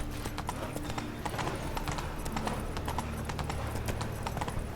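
Rhythmic horse hooves clip-clop steadily on the ground in The Witcher 3, a riding horse trotting close by with a faint snort or whinny, and the game's ambience running underneath.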